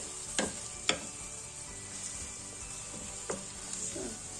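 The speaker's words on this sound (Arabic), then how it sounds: "شويه زيت بلديه وصافي شحرهم" Vegetables fry in country olive oil in a pan, a soft continuous sizzle broken by a few sharp clatters and taps of utensils.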